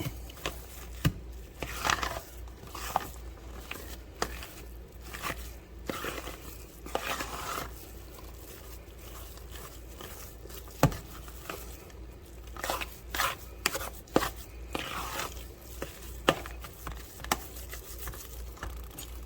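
A spoon stirring seasoning (a blend, salt, pepper and garlic) into a pot of lasagna soup, soft scraping and clinking taps against the pot at an irregular rhythm over a low background hum.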